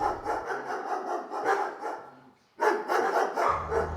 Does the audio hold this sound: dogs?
yes